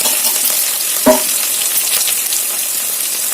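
Ginger fries on a stove with a loud, steady sizzling hiss that carries through the whole stretch, broken once by a brief clink.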